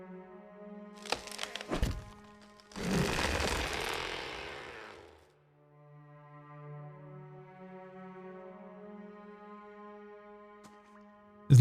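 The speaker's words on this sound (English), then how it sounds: "Cut the vegetation with a weapon." Thorny vegetation is hacked with a weapon in a video game: a few sharp thunking strikes, then a longer burst of rough crunching and snapping, set against a steady humming drone of background music.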